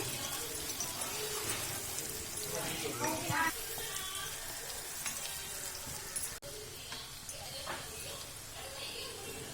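Onions fry with salt in a pan, the tempering for a Chettinad-style crab kulambu, in a steady close sizzle with a few stirring scrapes while a voice talks over it.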